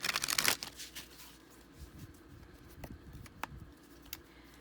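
Tarot cards being shuffled, a dense riffling flurry at the start followed by a few faint taps and soft card sounds.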